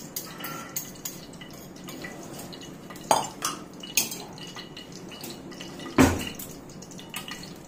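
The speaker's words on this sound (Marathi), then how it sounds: "हे संपूर्णपणे मी आता हे भातात ओतते, भातामध्ये मिक्स करणार आहे।" Whisked curd is poured into cooked rice and mixed in a home kitchen, with soft wet sloshes and a few sharp clinks of a spoon against the pot at irregular moments, quiet between.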